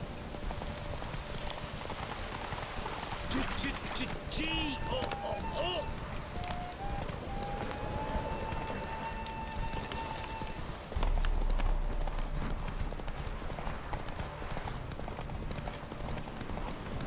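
Horse hooves clip-clop at a steady galloping rhythm in The Witcher 3 video game, with a voice talking over the hoofbeats and game music and effects in the background.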